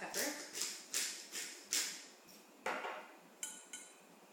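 A spoon stirs vinaigrette in a bowl on a kitchen counter, making a string of sharp metallic clinks and scrapes against the bowl at an irregular pace, close up.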